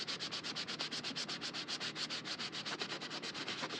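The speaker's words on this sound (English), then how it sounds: "give it a little bit of a sand. I'm sorry to any of you that don't like that noise." Sanding printable paper for a junk journal: steady, rapid back-and-forth rasping strokes, close and continuous, with an even rhythm of roughly seven strokes per second and no talking.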